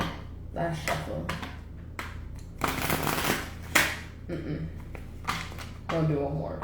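Tarot cards shuffled by hand in a series of crisp riffling bursts with short pauses between them, close and fairly loud, with a voice speaking briefly around them.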